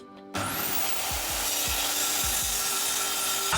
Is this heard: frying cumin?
no